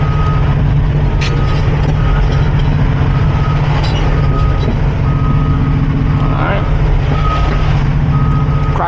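A Cat 349 excavator's diesel engine drones loud and close at high idle while loading, a steady heavy hum with a repeating reversing beep sounding at regular intervals over it.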